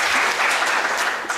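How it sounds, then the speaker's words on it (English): A conference audience at an international scientific meeting claps together in a short, loud burst of steady applause lasting just over a second, with individual claps faintly standing out. "So we can clap for ourselves."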